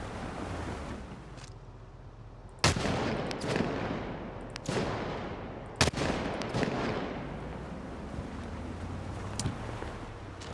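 Gunshots in Project Zomboid, fired while driving: two sharp, loud reports a few seconds apart stand out over a steady, rushing rumble, followed by fainter scattered clicks.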